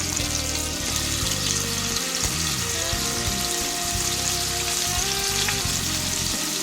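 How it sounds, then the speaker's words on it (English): Scallops sizzle in a hot skillet over medium-high heat, giving a loud, continuous frying hiss with small crackles and pops, heard close up with no talking. "I'm going to place the scallops in the pan. And you want it to sizzle just a little so that they'll get a nice crust on them."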